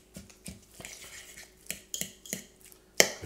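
Guacamole ingredients being smashed and mixed in a bowl, a run of close, irregular clanks and squelchy knocks of utensil against bowl, with a sharper clatter near the end.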